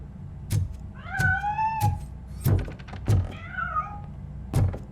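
A cat in the video game Robocop: Rogue City gives two clear, rising-and-falling meows, close and distinct, amid several soft thumps and knocks.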